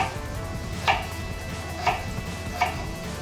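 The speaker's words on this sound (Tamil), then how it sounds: "இப்போ வந்து உருளைக்கிழங்கு பொரியலுக்கு குட்டி குட்டியாக கட் பண்ணிக்கலாம்" Potatoes being cut into small pieces with a knife for a stir-fry in a home kitchen, three distinct close chops spaced about a second apart over a low steady background, no talk.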